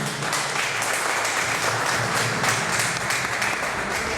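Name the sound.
congregation applauding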